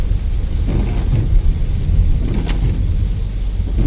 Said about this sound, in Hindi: क्या बारिश हो रही है।